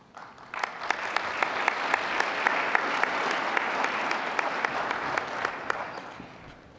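Steady audience applause at a football awards banquet as a pastor is welcomed to the podium, a broad wash of many hands with sharp individual claps standing out, fading in at the start and tapering at the end.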